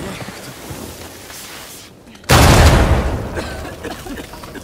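A sudden loud explosion in the Uncharted 4 video game erupts after a couple of seconds of low rumbling ambience, followed by a heavy, sustained roar and debris-like rumble that slowly decays.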